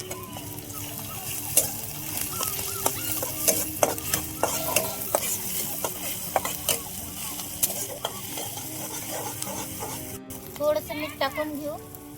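Garlic and green chilli paste is sautéed with browned onions for methi bhaji, a quiet sizzle under repeated scraping and clinking of a spoon against the pan while someone talks.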